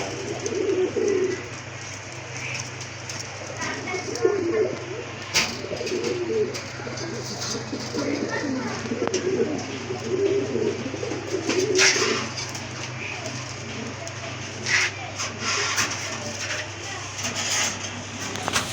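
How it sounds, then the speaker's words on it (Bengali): A pair of white-breasted Rajgolla pigeons coo repeatedly in soft, rolling calls at close range, with scattered chirps and faint background noise around them. "এটা হচ্ছে আপনার বুক সাদা এক জোড়া রাজগোল্লা কবুতর"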